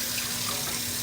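Water poured off rinsed rice in a pot while cooking jambalaya, a steady, close splashing gush that runs without pause for about a second.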